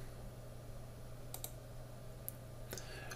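A few sharp, quiet computer mouse clicks while navigating a YouTube menu, isolated taps in two small clusters over a low steady hum.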